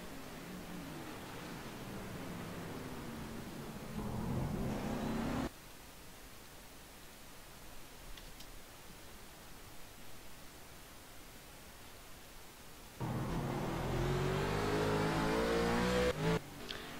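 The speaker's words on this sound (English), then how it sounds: "Riley Wyons still the fastest car on the racetrack" Race car engines in a sim racing game at Road America, revving loudly in two bursts with rising pitch and separated by a stretch of quieter steady noise.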